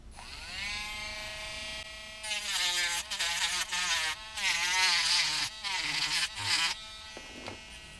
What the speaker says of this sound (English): I'm just going to cut off one of these little corners with my Dremel tool.